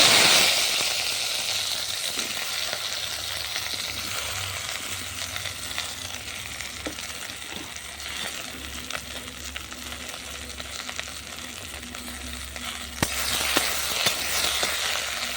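Okra sizzles in hot mustard oil in a pan over a clay stove, a continuous crackling fry with occasional stirring scrapes and small clinks, close and steady throughout.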